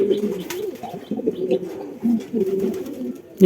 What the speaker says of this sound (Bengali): এখন আমার প্রিয় কবুতর এইটাই